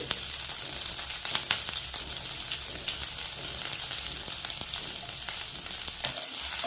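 Chopped green chillies and onions fry in hot oil for semiya palav, giving a steady, close, dense sizzle that carries on throughout with small crackles and pops and no talking.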